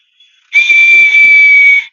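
A ceramic whistle blown in one long, steady, shrill tone lasting over a second, loud and close, after a brief faint puff.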